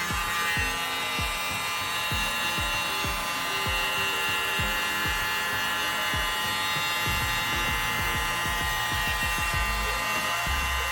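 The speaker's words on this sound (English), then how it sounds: "Try not to touch the canvas with the blower." An air blower pushes paint across a canvas, a continuous close buzzing whir with faint rhythmic scraping beneath, steady throughout with no talk.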